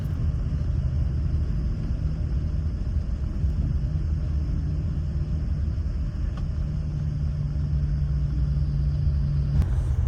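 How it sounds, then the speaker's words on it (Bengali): Cabin noise inside a moving Mercedes-Benz intercity bus on a Dhaka to Cox's Bazar run: a steady, unbroken low rumble of engine and road that holds at an even level throughout, with no voices. "এখানে একটু মনোযোগ দিয়ে গাড়ির কেবিন নয়েজটা শুনুন"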